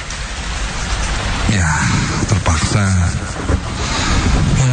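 Steady rain falls and patters on surfaces throughout, a dense continuous wash that stays loud, with brief voice-like sounds rising above it midway.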